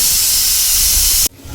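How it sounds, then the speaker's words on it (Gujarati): A pressure cooker lets out its final whistle, a loud continuous hiss of escaping steam that runs steadily and then cuts off abruptly near the end, followed by quiet room noise. "હવે આ કુકરની છેલ્લી સીટી"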